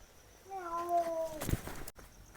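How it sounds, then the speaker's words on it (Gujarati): A cat gives a single drawn-out meow, fairly close and clear, against a quiet background with a faint sharp knock near the end. "મીંદડું આંકરે બોલતું હતું"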